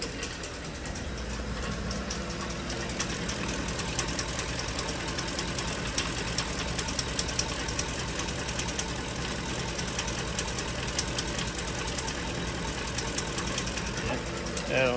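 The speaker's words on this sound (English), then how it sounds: "Sounds like we got a tensioner about to fall apart too." A Ford engine idles roughly with a failing belt tensioner, giving a steady close mechanical whir with rapid ticking and rattling throughout.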